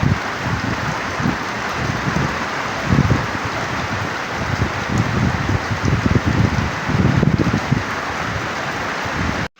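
Heavy rain pours steadily with gusting wind around a house, a dense, continuous roar of drops and wind noise close to the microphone, with no voices.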